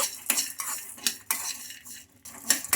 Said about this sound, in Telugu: ఇలా వేగుతుండగానే ఇందులోకి పల్లీలు కూడా వేసుకోవాలి ఈ పల్లీలు కూడా వేసుకొని బాగా ఫ్రై చేసుకోవాలి